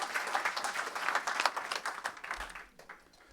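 An audience at an international mobility ceremony applauds for a few seconds. The clapping is steady and moderately loud, then tapers off into a quieter room.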